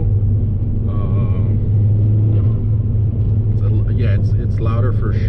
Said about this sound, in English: Give it a little blip, you can hear the air just rushing through.